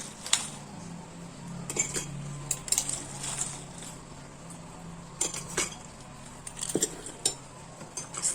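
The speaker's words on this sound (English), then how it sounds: "And put the ice cubes." Ice cubes drop into a glass of milk tea, several sharp clinks and knocks scattered across a quiet kitchen background, close by and without speech.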